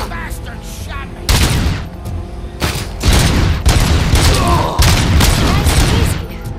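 Gunfire in RoboCop: Rogue City: repeated loud bursts of shots and heavy booms in quick irregular volleys, with brief pauses between clusters, up close and dominant.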